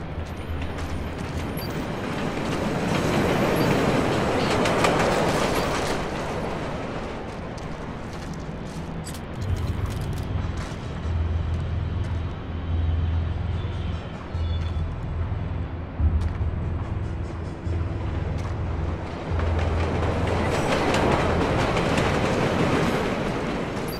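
Train rumbling and clattering steadily through a rail yard in the Transit Yards level of the Splinter Cell Blacklist video game, a loud continuous roll with low thumping wheel noise throughout, no talk.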